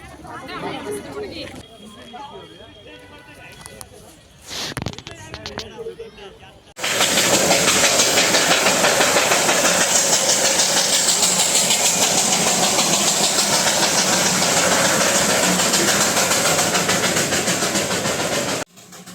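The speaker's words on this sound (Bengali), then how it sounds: "এখন যে ট্রেনটি দেখতে পেলে এই ট্রেনটি দেখার জন্যই সবাই এই বাতাসিয়া লুপে আসে" Voices talk over a quiet background, then the steam toy train passes close at Batasia Loop in Darjeeling, its loud continuous hiss and rumble holding steady until it cuts off at the end.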